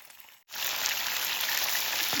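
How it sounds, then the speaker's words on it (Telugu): Eggplant pieces dropped into hot oil on a wood-fired stove, a brief quiet moment then a sudden loud, steady crackling sizzle of deep frying that continues close and even. "ఇప్పుడు వీటిని ఒక్కసారి ఫ్రై చేసుకుందాం."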